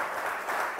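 Applause for Jesus at a church gathering, a steady wash of hand clapping from an audience that stays at an even level throughout a brief moment.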